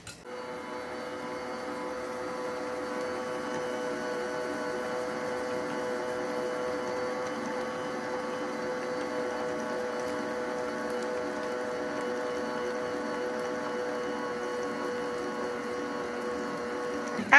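A large-capacity stand mixer whisks German chocolate sheet cake batter, a steady, even motor hum with a whirring tone that runs unbroken, fairly loud and close, with no talk over it.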